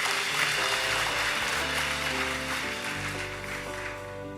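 A church congregation applauding during a sermon, a steady wash of many hands clapping at moderate loudness that carries on throughout, with organ or keyboard chords sustained underneath.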